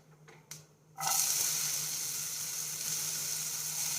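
Prawn peels hit hot oil tempered with nigella seeds for a jhinga chutney, a couple of faint taps before a loud, dense sizzle bursts up and holds steady and close.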